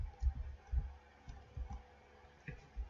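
Keys on a computer keyboard are pressed during image-processing work, making a handful of short, close clicks spaced irregularly over a few seconds against a quiet background.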